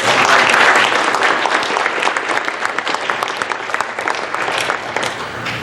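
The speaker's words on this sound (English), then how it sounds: "And I'd like to give them all a round of applause." A crowd at a hall of fame induction ceremony gives sustained applause, dense and steady clapping throughout with no talking over it.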